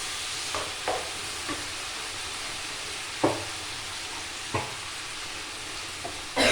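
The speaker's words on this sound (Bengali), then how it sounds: "এই যে এইটুকু হিং দেবো দিয়ে এবার এটা আমি 5 মিনিট একটু ভাজা ভাজা করবো।" Spices fry with asafoetida in oil, a low, even sizzle under a handful of spaced knocks and scrapes of a stirring spoon against the pan, with a louder clatter right at the end.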